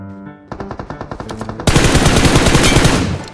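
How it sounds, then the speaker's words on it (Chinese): Rapid automatic gunfire from a video game's Metro escape mode, set in a library: loud close bursts in a quick rhythm, then a sustained roaring volley for the rest of the clip. "枪声在图书馆"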